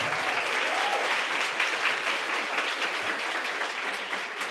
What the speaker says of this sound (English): can we give all new friends a big round of applause?